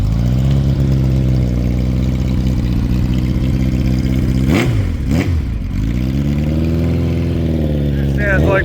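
A motorcycle engine runs at a steady, deep idle close by, then is briefly revved twice in quick succession near the middle before settling back, with people talking over it.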